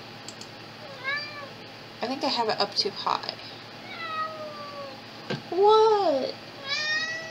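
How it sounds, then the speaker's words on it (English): A cat meows repeatedly, several rising and falling calls, close by, while someone talks over and between them. "Meow."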